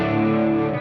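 An electric guitar played through an amplifier with chorus in the effects loop, a sustained shimmering chord ringing evenly and loudly for a brief moment.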